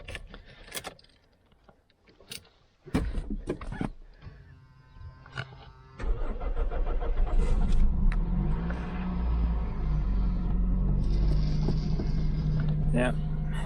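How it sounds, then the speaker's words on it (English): Keys rattle and a starter cranks before a car engine catches and settles into a steady, loud idle rumble close by. "Let's see if we have some possibility to start this car."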